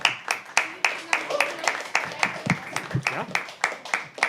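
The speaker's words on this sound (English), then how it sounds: "Keep clapping" Audience at a live poetry open mic clapping in a steady series of sharp, evenly spaced claps, close and distinct, with a voice talking briefly underneath.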